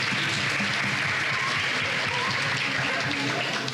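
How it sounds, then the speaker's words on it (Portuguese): Audience applause at an investment event, a brief burst of continuous clapping from a seated crowd, dense and even throughout. "Queria chamar, então, a Cláudia Úrio, por favor, uma salva de palmas."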